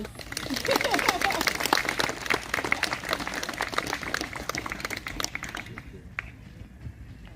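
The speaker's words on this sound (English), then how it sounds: "Let's give Emmett a round of applause" Wedding guests clap for the couple during a ceremony, a moderate round of scattered applause that thins out and fades away toward the end.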